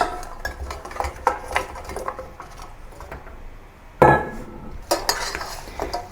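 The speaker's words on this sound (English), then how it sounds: "Return the pork ribs to the caramel." Pork ribs are tipped back into a pan of caramel for sweet and sour ribs, making a run of clattering knocks and scrapes against the pan, close up, with a louder clatter about two-thirds through.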